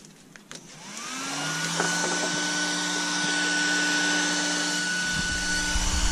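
A small cooling fan for a Surpass Hobby ESC spins up within the first second and then runs steadily at full speed, giving a loud, constant whirring hum with a clear high whine and no talking.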